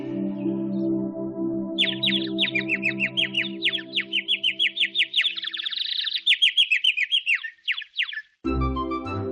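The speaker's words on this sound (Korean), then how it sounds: "그 새는 아름다운 목소리로 지저귀었어요." A bird chirps a long, rapid series of bright tweets over a steady low hum, ending abruptly.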